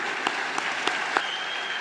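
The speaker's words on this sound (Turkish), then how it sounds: "Sizden de alkış bekliyorum." Audience applause at a municipal star athletes' award ceremony in Kayseri, a steady dense wash of clapping with a few sharper claps standing out, moderately loud and continuous throughout.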